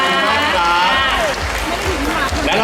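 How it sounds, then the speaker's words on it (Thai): Audience applause at a charity gala, PRAEW Charity 2020, a steady wash of clapping heard close and loud, with voices and crowd noise mixed in throughout the short stretch. "ขอเสียงปรบมือให้คุณชิงชิงครับ"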